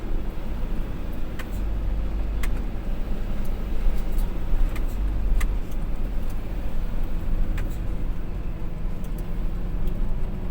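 An Isuzu 240 hp truck descending a steep hill road at Patong, Phuket in low gear, with a steady low engine drone and rumble inside the cab and occasional light rattles.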